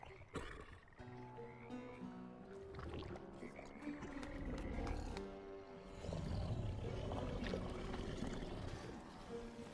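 Deep, rumbling croaks from a giant frog king creature in the dark adventure game Bramble The Mountain King, loud and drawn-out with layered growling tones over ambient game sound.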